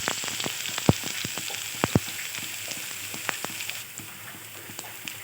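Crushed garlic and ginger frying in hot oil with mustard seeds, a steady close sizzle broken by sharp crackles and pops scattered throughout, easing a little toward the end.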